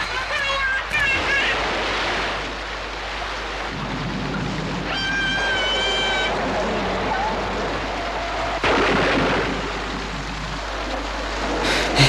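A flooded river swollen over its banks near a village in Nepal gives off a broad, continuous roaring rush of water. Several voices and brief tonal sounds rise over the steady roar at times.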